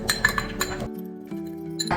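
An egg cracked against the rim of a glass bowl while making beef Wellington, giving a few sharp, close glassy clinks in quick succession followed by a ringing tone, with no talking.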